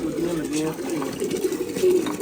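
Domestic pigeons kept for a pigeon-flying contest, cooing in low, throaty, repeated calls close by, with voices mixed in.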